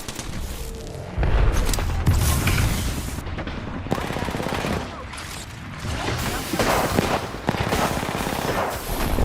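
Video game combat with grenade explosions and gunfire: dense, continuous rattling shots and heavy booms fill the whole stretch, with faint voices now and then underneath.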